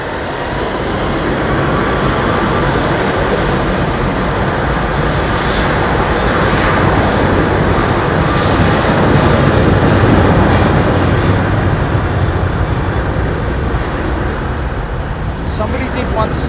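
Jet airliners departing London Heathrow runway 27R, a loud sustained broadband engine roar that swells and holds for the whole stretch, close and powerful, with voices talking faintly beneath it.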